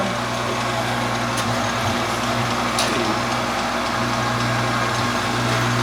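An Emso Compact 11 metal lathe runs steadily at 600 RPM, giving a continuous low motor hum with faint mechanical whir, fairly loud and unbroken throughout.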